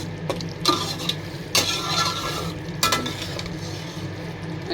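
Masala for a beef curry fries in released oil. It is stirred with a utensil, giving a steady close sizzle and three distinct scraping strokes against the pot, with no speech.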